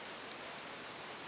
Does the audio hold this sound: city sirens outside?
no